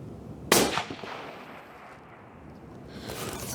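A rifle chambered in 6.8 Western fires from a front rest and rear bag outdoors, one sharp loud report that decays over the following seconds.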